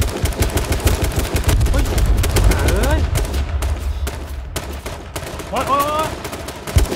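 Rapid bursts of automatic gunfire crackle throughout a firefight in the video game H1Z1, close and dense, while players shout and yell over the shooting.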